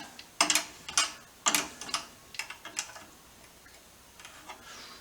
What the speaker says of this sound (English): Because at the moment I've got to do it with a spanner.